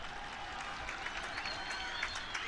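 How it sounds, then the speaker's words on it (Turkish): A crowd at an outdoor oil wrestling tournament in Ankara applauds a wrestler, a continuous, fairly distant roll of many hands clapping at an even level. "Bir alkış yapalım pehlivana."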